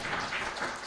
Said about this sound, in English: let's give them also another big hand of applause